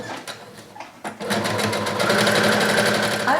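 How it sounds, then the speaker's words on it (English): A sewing machine stitches a 5/8 inch seam along the top edge of a casual shirt collar, starting with a few soft taps before settling into a steady, loud, continuous whirring run close by. "So the first part of this will be sewing with a 5/8 inch seam allowance"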